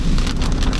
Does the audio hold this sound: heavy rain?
yes